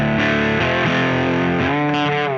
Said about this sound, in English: This is my sound without any treble booster engaged.